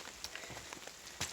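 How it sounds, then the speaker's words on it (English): Light rain sprinkling on a hiking trail on the Appalachian Trail, soft scattered patter of drops with a few sharper taps, close and steady with no voices. "started sprinkling again about an hour ago"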